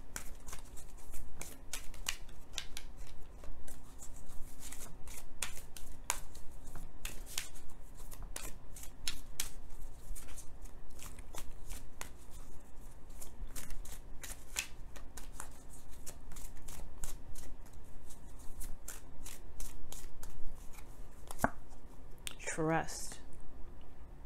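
Romance Angels oracle cards are shuffled close up, producing repeated soft riffling flicks and taps throughout, with a few brief sharper clicks near the end.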